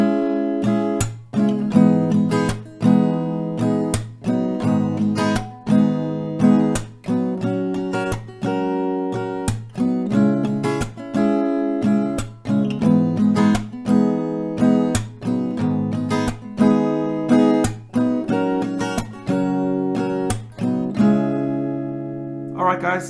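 Acoustic guitar strummed through the chord progression of a song, steady rhythmic strokes cycling the same chords several times, close and full, ending on a final ringing chord.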